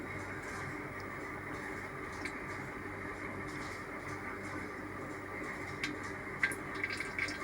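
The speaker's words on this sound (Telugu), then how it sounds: "చికెన్కి కొంచెం నూనె ఎక్కువ పడుతుంది కాబట్టి నేను మామూలుగా స్పూన్తో వేయట్లేదు." Cooking oil is poured straight from the container into a pan on the stove for chicken curry, making a faint, steady liquid trickle with a few small ticks and splashes.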